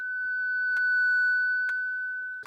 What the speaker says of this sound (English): Put it into a bandpass filter. See how it gets that whistling tonal characteristic?